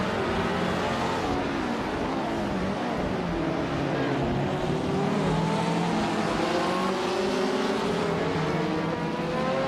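Race cars nose to tail through the tight corners of the Ruapuna circuit in a racing video game, engines droning loudly and continuously with rising and falling pitch as they battle side by side.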